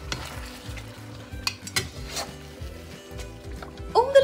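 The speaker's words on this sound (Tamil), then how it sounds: "இதில் லெமன் பிழிஞ்சு விட்டு நல்லா மிக்ஸ் பண்ணி விட்டுருங்க." A spoon stirs curd and lemon juice together for chicken korma, making steady, rhythmic scraping strokes against the bowl, fairly close and quiet, with a clink near the end.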